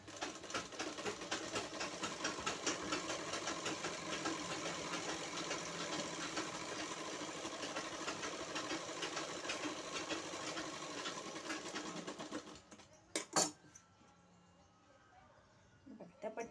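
Sewing machine running steadily as it stitches a sleeve for a trending sleeve design, a continuous close whirring rattle for about twelve seconds that stops abruptly, followed by a few brief handling clicks.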